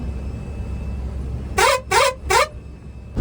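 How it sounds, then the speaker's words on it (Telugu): A Bajrang truck horn sounds three loud, evenly spaced musical blasts, close by, over a steady low road and engine rumble. "మొన్న మనం బజరంగ హారన్ అయితే తీసుకున్నాం కదా"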